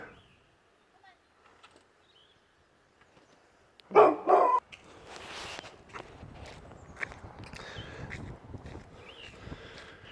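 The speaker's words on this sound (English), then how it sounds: "That dog scared me." Outdoors on a road, a dog barks in a sudden loud burst of a couple of close barks, followed by rustling footsteps and scattered noise, with quiet surroundings before.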